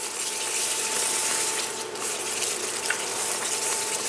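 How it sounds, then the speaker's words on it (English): Water pours steadily into a stew pot with tomato paste, a continuous close hiss and gush lasting several seconds with a faint clink partway through. "Now add a little bit of water."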